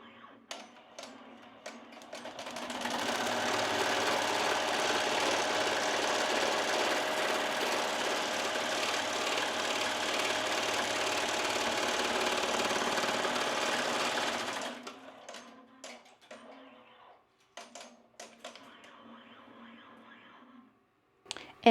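A Melco embroidery machine stitches a scalloped edge onto fabric, a loud steady rapid mechanical whir running for about twelve seconds before it stops, followed by scattered clicks and handling noises.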